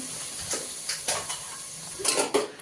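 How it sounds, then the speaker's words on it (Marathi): Spice masala roasts in a pan for a crab curry, with a low sizzle under intermittent clinks and scrapes of a spoon or spatula stirring against the metal. "मसाला भाजून घेणार नेहमीप्रमाणे"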